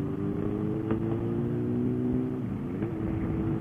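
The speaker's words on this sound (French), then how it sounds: "Ça fait vraiment un beau bruit maintenant, ta moto, frère." A motorcycle engine with its catalytic converter removed and the honeycomb drilled out, idling and revving steadily nearby with a rough, throaty drone and a slight pitch shift near the end, no talk over it.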